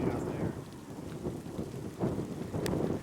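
Rain falls during a storm chase near Arnett, a steady wash of drops over a low, rumbling storm background that swells a few times and stays fairly faint.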